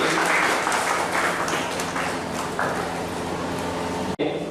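Audience applause welcoming a guest at a college career guidance and campus drive event, a continuous dense wash of clapping that holds steady before cutting off abruptly near the end.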